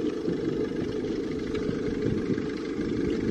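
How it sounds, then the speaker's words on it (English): A Mercedes Sprinter MWB high-roof crew van engine runs at a steady idle, a close, even mid-pitched drone heard with the engine bay open, with no voices. "Let us have a look at the engine bay and have a good listen."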